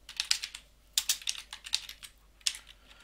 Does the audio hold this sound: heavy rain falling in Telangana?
no